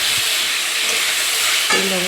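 Potatoes fry in hot oil with a steady, loud sizzle that fills the whole stretch, broken by a brief scrape or stir near the end; no one speaks.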